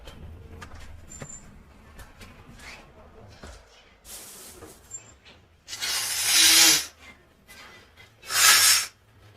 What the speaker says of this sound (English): The last of the sniffles.